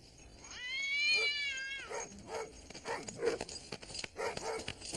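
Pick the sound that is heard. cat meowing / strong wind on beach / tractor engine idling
cat meowing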